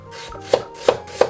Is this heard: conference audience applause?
no